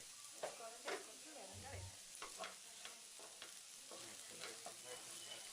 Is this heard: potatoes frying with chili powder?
yes